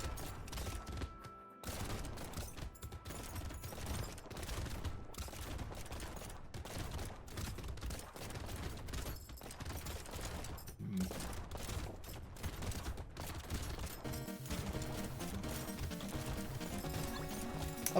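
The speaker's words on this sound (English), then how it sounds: "How bad is the shotgun sound effect volume, by the way?" Repeated shotgun blasts from a weapon in the roguelike arena game Brotato fire in a dense, loud, rapid barrage over continuous game music and effects, with no pause across the whole stretch.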